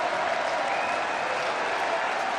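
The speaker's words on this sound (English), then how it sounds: "Applause from the crowd here in Munich." Crowd applause at a German Darts Grand Prix match in Munich, a steady broad wash of clapping from a large arena audience, even and sustained at moderate level.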